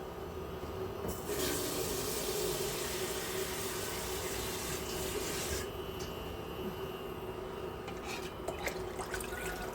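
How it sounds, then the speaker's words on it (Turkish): Water runs steadily into a cooking pot from a tap for a meatball dish, a continuous rushing splash with a brief change in flow partway through and a few clinks near the end. "Onun için az daha su koyacağım."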